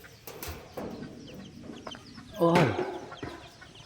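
Chickens in a coop cluck and squawk close by, with one loud agitated burst partway through, over faint rustling and a brief spoken exclamation.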